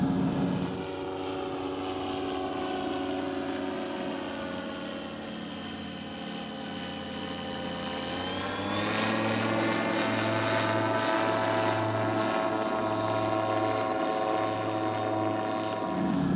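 Microlight trike engine droning steadily during a low pass flyby, a continuous buzzing tone that shifts pitch and swells louder in the second half as it passes near, with no talk.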